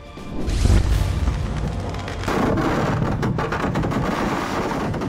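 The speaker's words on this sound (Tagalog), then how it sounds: "Biglang sumabog ang mga paputok sa gitna mismo ng mga nanonood ng fireworks display sa isang religious festival sa India." Fireworks exploding in the middle of a crowd at a religious festival in India: a heavy booming blast that rolls into a sustained, loud crackling roar of rapid bursts.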